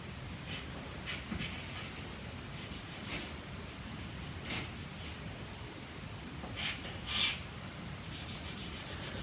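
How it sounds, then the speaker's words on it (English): A finger rubs pastel across a drawing, making soft, faint, intermittent swishing strokes in an irregular rhythm in a quiet room. "use my finger to rub the pastel to create the rest of it"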